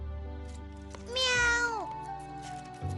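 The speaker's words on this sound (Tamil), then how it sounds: "மியாவ்." A cartoon cat gives one clear, drawn-out meow with a falling pitch, loud and close against a quiet background hum, with no talking.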